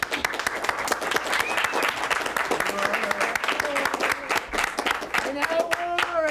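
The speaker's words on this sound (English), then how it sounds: "Let's have a round of applause for Mr." A studio audience at a wrestling talk show applauds a guest's introduction, dense close clapping that holds steady throughout, with a voice speaking over it.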